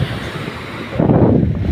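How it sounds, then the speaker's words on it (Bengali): Strong wind buffets the microphone on an open sea beach at Lal Kakrar Char island near Kuakata, a steady rough rumble that surges louder partway through, with no voices. "এখানে অনেক রকম অনেক বাতাস চলতেছে"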